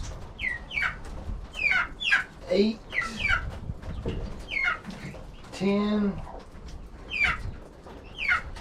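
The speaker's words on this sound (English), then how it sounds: "Got a broody hen. She's gonna nip me." Hens clucking and squawking inside a chicken coop during egg collection, a broody hen giving sharp agitated calls between softer clucks, close by, with a person counting under the birds.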